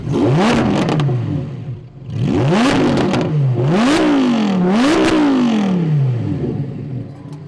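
A Lamborghini Huracán Performante revving hard on a race track, engine note sweeping up and dropping back in four loud, close bursts with rising and falling pitch.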